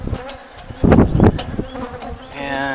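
Honey bees buzzing steadily during a bee removal in Ennis, Texas, as the colony marches into a box with its brood; a dense close hum with a brief louder surge and some handling noise.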